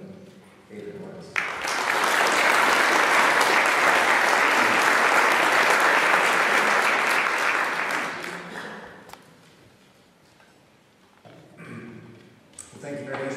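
Loud, sustained applause from a conference audience welcoming a speaker at a land-responsibility event, swelling quickly, holding steady for several seconds, then fading out as talk resumes.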